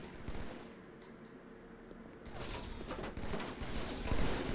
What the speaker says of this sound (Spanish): Ahí le di varios tiros